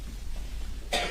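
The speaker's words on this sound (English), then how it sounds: "there's coughing and paper flapping" A single sharp cough in a courtroom during a murder trial comes at the very end, after a steady low room hum.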